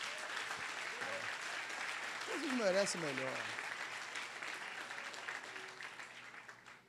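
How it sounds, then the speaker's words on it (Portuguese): Church congregation applauding for Jesus during a Portuguese-language service, a steady wash of clapping throughout while someone speaks over it near the start. "Aplauda direito para Jesus, meu irmão"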